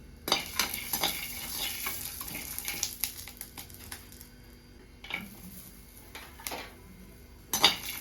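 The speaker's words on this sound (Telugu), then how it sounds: "పచ్చిమిరపకాయలు కొన్ని వేగిన తర్వాత వేరుశనగపప్పు అయితే వేసేసుకుంది" Green chillies and peanuts fry in a pan for an old tamarind peel chutney, with spoon stirring and scraping in sharp bursts over a low, steady sizzle, close by and with no talk.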